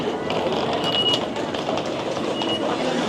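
Tokyo Disneyland monorail train running, a steady broad rumble and hum with faint high squeals, heard from on board over a short stretch.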